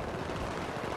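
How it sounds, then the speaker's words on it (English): A rocket launcher fires in the video game Battlefield 3 multiplayer Team Deathmatch on Talah Market, a brief dense roaring blast that fills the whole moment. "One more try with this rocket."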